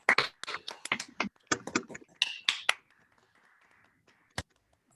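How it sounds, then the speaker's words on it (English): Scattered claps from a handful of unmuted participants welcome Cris Mazza at an online University of Illinois reading. A dozen or so sharp, close, separate hand claps fade out, followed by one last lone clap. "So please, if you can, with unmuted applause, let's welcome Cris Mazza."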